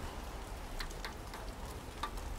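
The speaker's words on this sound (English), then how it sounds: "So it's basically some rain dropping on some metal things." Rain dropping onto metal objects, used as a loop in dub techno sound design; faint scattered ticks and light pings over a low steady wash.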